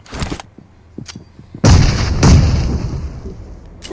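In PUBG Mobile, a heavy grenade explosion booms out suddenly, followed by a second blast and a long rumbling decay, after a few earlier sharp pops and thuds.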